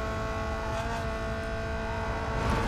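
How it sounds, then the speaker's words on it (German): Car engine in the racing game Need for Speed: Most Wanted, a continuous loud, buzzing drone rich in steady harmonic tones, rising slightly in intensity near the end. "Man hört die Reifen quietschen, der Motor schreit in die Ohren"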